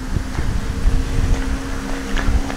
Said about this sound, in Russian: Такой ветер нормальный. Осенний, но не холодный.